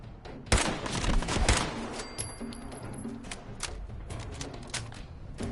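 Gunfire in the game Fallout 4, two sharp loud shots early, then a run of quicker, softer rapid shots and clatter continuing to the end.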